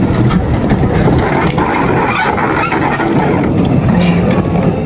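A steam railway locomotive at Havenstreet Station on the Isle of Wight Steam Railway, moving off along the track, gives a steady, loud rumbling mechanical roar with broad noise that continues without a break.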